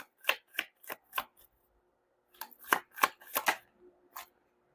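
Tarot cards are shuffled in quick riffling bursts, several crisp rapid flicks, then a pause, then another run of flicks, close and clear with no talking.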